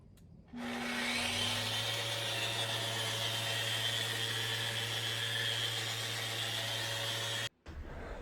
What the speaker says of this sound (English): We got to get these things sanded